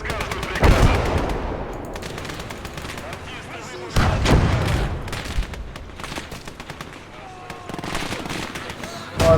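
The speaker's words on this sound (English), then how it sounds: "Oh, there's a machine gun there." Machine gun bursts and heavy gunfire in a war video game battle, loud rapid rattling broken by booming blasts, with a voice talking over parts of the fighting.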